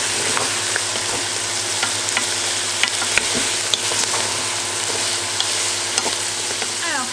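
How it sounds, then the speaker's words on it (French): Bacon lardons and onions fry in a pan with a constant loud sizzle, punctuated by occasional scraping and stirring clicks, close up, no talking. "Et j'ajoute aussi les lardons. Et je vais les faire dorer aussi à leur tour."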